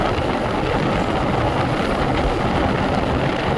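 Constant roaring engine and wind rush of a TVS Raider 125 motorcycle carrying two riders at speed, loud and unbroken, with no voices.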